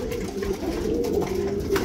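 Pigeons in a racing pigeon loft make a steady, low cooing drone that runs continuously through the whole clip, close by and fairly loud, with no one talking.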